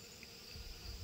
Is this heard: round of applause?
no